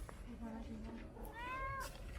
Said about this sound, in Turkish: Güzel kedi.